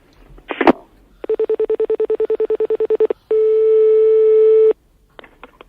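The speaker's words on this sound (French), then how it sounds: "On essayait de vous appeler, mais c'était occupé." A landline telephone rings briefly, then a rapid train of evenly pulsed busy-signal beeps sounds, followed by a loud steady tone lasting over a second and a few faint clicks.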